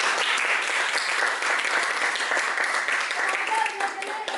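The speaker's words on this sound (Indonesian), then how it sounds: "Tepuk tangan dong untuk kita." Applause from a class or online audience after a science lesson on water moving from high to low concentration, a steady dense clatter of clapping throughout with faint voices mixed in.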